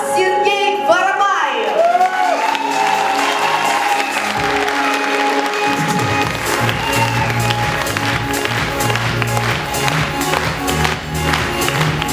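Applause from a concert audience, a dense steady patter of many hands clapping that fills the whole stretch, joined by music partway through.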